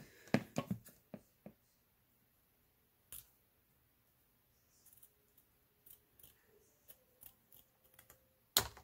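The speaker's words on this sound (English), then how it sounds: "So let me just cut out some of this." Scissors snipping paper for a mixed media purple mask, a few quick sharp cuts at the start, then scattered light crisp snips and rustles in near-silence.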